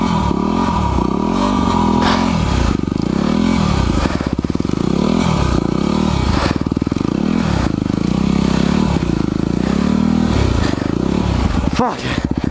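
A Yamaha WR250R motorcycle rides through snow, its engine loud and close throughout, revving up and down in repeated surges with clattering and scraping, while a rider talks now and then over it.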